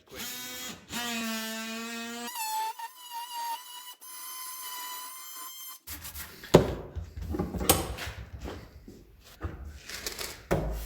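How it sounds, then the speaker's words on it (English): An oscillating multi-tool buzzes in sustained whining bursts as it trims timber sash window meeting rails, followed by rough, loud cutting and scraping noises. "So using the multi-tool just speeds this job up"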